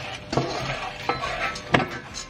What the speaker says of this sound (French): Je mélange rapidement.